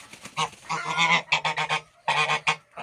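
Geese honk repeatedly in quick, overlapping bursts, loud and close, with short pauses between the calls.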